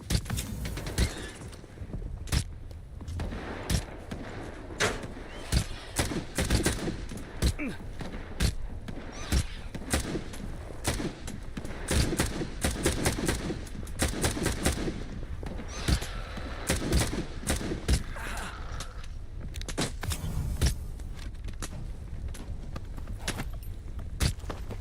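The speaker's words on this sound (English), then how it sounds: "Where are we getting shot from?" Sharp gunshots from the post-apocalyptic shooter S.T.A.L.K.E.R. 2: Heart of Chornobyl, cracking in irregular bursts and single shots across a long stretch, some loud and close, others fainter, with intermittent talk between them.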